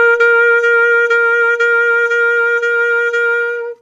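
A saxophone holds one high note, re-articulated about eight times with clean tip-to-tip tonguing, each attack a light, crisp break in an otherwise steady, loud tone with no talking.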